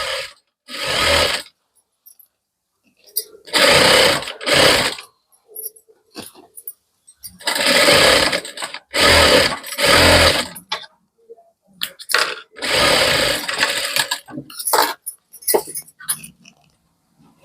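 An electric sewing machine stitches golden lace onto a velvet blouse, running in repeated bursts of rapid mechanical whirring and clatter, each lasting a second or two and separated by short pauses, loud and close.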